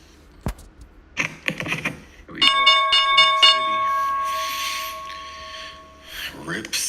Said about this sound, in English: all my alerts are going off now